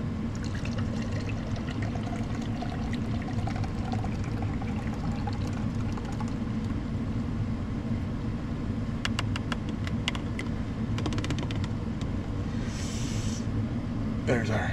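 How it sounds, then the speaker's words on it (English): Canned cold coffee poured hard into a glass inside a camper van gives a continuous liquid gush and trickle. Faint clinks and a brief higher splash come near the end. "gently shake can once, pop open, and pour hard into a cold glass"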